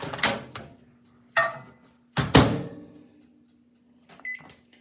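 Microwave oven set to melt butter: a few sharp door and handling knocks, then a low running hum, with short keypad beeps near the end.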